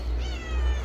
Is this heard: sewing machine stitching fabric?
no